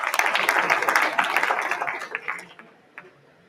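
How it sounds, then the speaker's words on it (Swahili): Audience applause at a community land summit, a dense burst of many hands clapping that carries strongly for about two seconds, then thins out and fades, with one last isolated clap near the end. "Wasee kwanza tupigie makofi sisi wakina mama."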